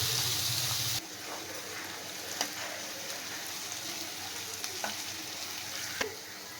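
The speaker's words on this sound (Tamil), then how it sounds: "வெங்காயம் வந்து நல்லா கொஞ்சம் கோல்டன் கலரில் ஆகட்டும்" Onions sauté in a hot pan for a green gram gravy, giving a steady sizzling hiss. A louder burst of frying opens, then a softer crackle continues with a few sharp stirring clinks and scrapes close by.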